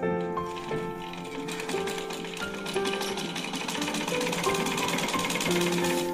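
A sewing machine stitches the front piece of a blouse, its needle running in a rapid, steady mechanical rattle close by with a faint melodic tone underneath, no talking.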